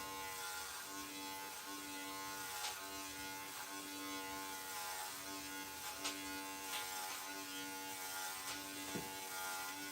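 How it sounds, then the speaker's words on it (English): An electric clipper hums steadily throughout while a doodle is groomed around the shoulder area, with a constant buzzing tone, faint intermittent clicks and no talking. "So the reason for using the clipper"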